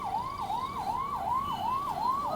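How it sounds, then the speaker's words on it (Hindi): An ambulance siren wails in a steady, repeating rising-and-falling cycle, heard at a moderate distance as the vehicle passes, with no voices over it. "ये एम्बुलेंस जा रही है और बिल्कुल आवाज़ इधर तक आएगी इसकी"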